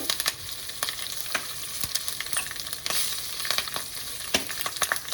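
Dry red chilies fry in oil with mustard and cumin seeds, crackling in a steady close sizzle broken by frequent sharp pops and stirring clicks, with no voices.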